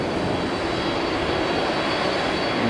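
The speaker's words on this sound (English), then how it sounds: "And the A380" An Etihad Airbus A380 airliner at Haneda produces a loud, steady, broad jet roar that holds evenly throughout the brief stretch.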